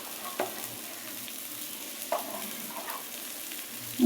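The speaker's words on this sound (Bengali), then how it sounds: "এখন এগুলোকে হচ্ছে একটু ভুনা করার জন্য, কষানোর জন্য কিছুক্ষণ চুলাতে আর কি" Turmeric, chili powder and other spices fry in oil in a pan for egg bhuna, giving a soft steady sizzle broken by a few brief stirring scrapes, with no one talking.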